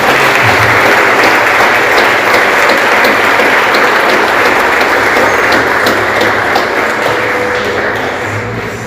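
A church congregation claps loudly and continuously, a thick, sustained wall of applause that stays strong for nearly nine seconds before easing slightly at the end.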